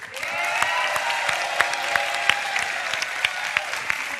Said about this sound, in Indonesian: Oke, tepuk tangan untuk kita semua malam hari ini.